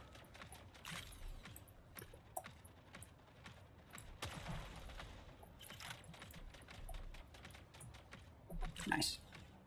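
Gunfire from a mech shooting at a bot in the game Mech Arena, a steady crackle of rapid shots running throughout with a louder burst near the end, under game noise.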